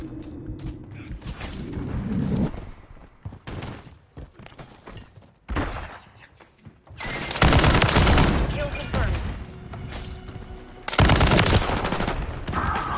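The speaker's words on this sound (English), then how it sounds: "Taking fire!" Bursts of automatic gunfire in a first-person shooter game come in loud, dense stretches, with creaking mechanical game sounds and thumps between them and a voice talking faintly under parts of it.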